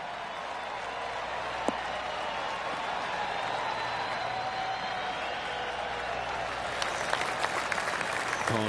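Polite golf clap from the gallery in the video game PGA 2K23 at a simulated BMW Championship course, a soft, sustained patter of many hands that swells slightly toward the end.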